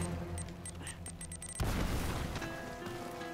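A grenade blast in Uncharted: Drake's Fortune lands as one sudden, loud boom partway through, breaking into a rumbling, crackling burst over ongoing game music and effects.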